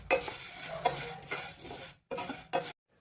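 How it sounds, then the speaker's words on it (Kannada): Coriander seeds being stirred and roasted in a pan for sambar powder, with steady scraping and rattling strokes of a utensil against metal and a soft sizzle, pausing briefly before resuming. "ಧನಿಯಾ ಹುರ್ಕೋತಾ ಇದ್ದೀನಿ."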